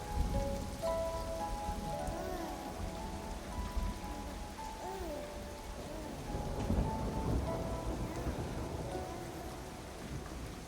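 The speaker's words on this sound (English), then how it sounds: "Sound of rain." Rain in the video game Jusant patters down continuously, a dense wash of droplets with a low rumble underneath and faint tonal notes drifting over it.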